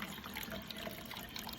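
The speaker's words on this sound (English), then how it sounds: "And I'm gonna add some fresh water." Fresh water poured into a container while planting an avocado seed, a soft, steady trickle and splash heard close up and fairly quiet, with no talking.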